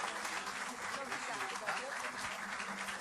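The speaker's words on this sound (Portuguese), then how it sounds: "Eu gostaria que você ficasse de pé e desse um aplauso a Deus para receber essa mulher de Deus." A church congregation stands and applauds to welcome a woman pastor during a morning service: a dense, continuous wash of clapping with voices mixed in underneath.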